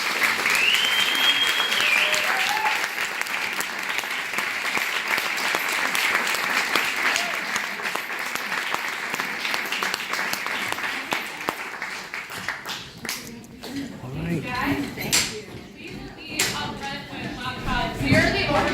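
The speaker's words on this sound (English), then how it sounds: "Can we give just another big round of applause?" Audience at a Q&A after a screening gives a big round of applause, dense sustained clapping that thins out toward the end, with voices talking as it dies down.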